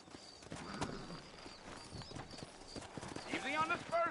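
Horse hooves clop in an uneven rhythm on the ground in the Western video game Red Dead Redemption, moderately loud and close, while characters talk over them and a horse briefly snorts.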